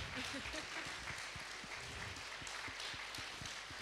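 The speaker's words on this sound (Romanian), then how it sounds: "să-l aplaudăm pe el de mai multe ori" Applause from a church audience at a Christmas carol concert, honoring the children's choir teacher; steady, fairly faint clapping with some talk mixed in.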